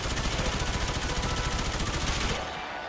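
Rapid sustained automatic gunfire from the Gorgon weapon in a video game, a dense, even stream of roughly forty shots that cuts off abruptly, leaving a faint tail of ambient noise.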